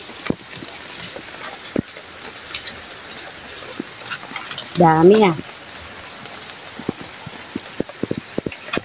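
Steady rain patters and drips on surfaces nearby in a backyard vegetable garden during the rainy season, with a brief spoken remark partway through.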